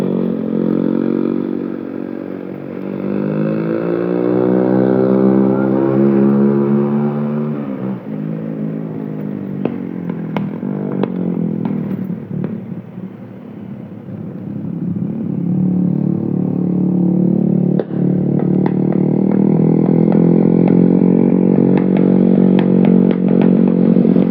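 A vehicle engine labours loudly and steadily along a damaged, sunken road between Langkaplancar, Pangandaran and Cijeungjing, Ciamis, via the Tanjakan Sajuta climb. Its pitch swells and dips as it revs, with occasional knocks and rattles.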